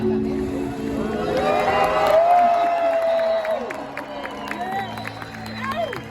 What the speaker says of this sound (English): he loves it when this whole stadium gives her a loud cheer.